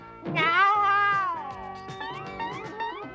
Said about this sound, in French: Il en fait des chichis, ce chat.